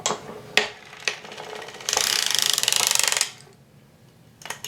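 Circular sock knitting machine with the heel spring engaged and a needle raised for the heel: sharp isolated mechanical clicks followed by a steady, close ratcheting whir of the needle cylinder turning for about a second and a half, then a few more clicks.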